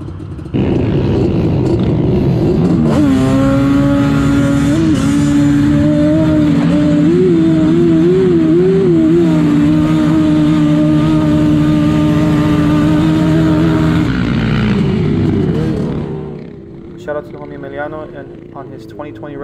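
A Yamaha Banshee ATV launches in a drag race up a huge dune hill at Glamis, its two-stroke engine screaming at high revs for about twelve seconds, loud and close, then fading, with voices afterward.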